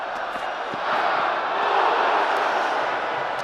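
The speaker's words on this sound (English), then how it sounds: "Roars from the crowd as" Crowd at a Pakistan versus England T20 cricket match, a sustained distant roar from the stands that swells midway and holds steady.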